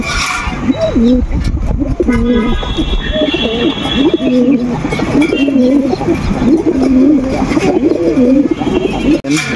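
Teddy pigeons coo loudly and close, a run of repeated rolling coos in a steady rhythm that carries on for several seconds amid cage rustling.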